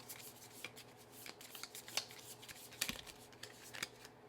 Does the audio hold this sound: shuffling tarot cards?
yes